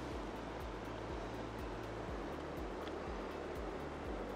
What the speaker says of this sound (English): we are enjoying the fast-moving river